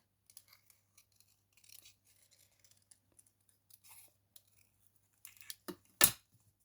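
Scissors fussy-cut around a card topper in faint, scattered little snips and rustles, ending with a couple of sharper, louder cuts.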